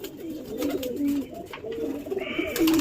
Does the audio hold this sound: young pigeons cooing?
yes